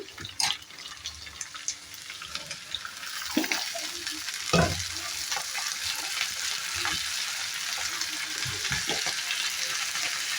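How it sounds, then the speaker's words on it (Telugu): Brinjals drop into a pan of reddened fried onions for tomato brinjal curry, with a burst of clatter and bumps, then a steady rising sizzle under repeated stirring scrapes, no voices. "ఆనియన్స్ బాగా ఎర్రగా మగ్గిపోయాయి కదా ఇప్పుడు వంకాయలు వేసుకుందాము"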